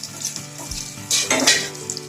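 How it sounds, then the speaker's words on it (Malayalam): Raisins dropped into hot oil in a heated pan for green gram payasam hiss and sizzle in lively bursts, with faint clinks of a spoon stirring, close up and without speech. "അപ്പം നമുക്ക് ഈ എണ്ണയിൽ ചൂടോടെ കിസ്മിസ് കൂടെ ഇട്ട് കൊടുക്കാം."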